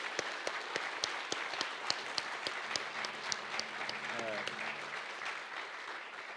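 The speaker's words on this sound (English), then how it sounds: "And now you can clap." Audience applause at a sister cities signing ceremony between the City of Longmont and the Northern Arapaho, steady clapping from a crowd with a few sharp nearby claps standing out and brief voices murmuring underneath.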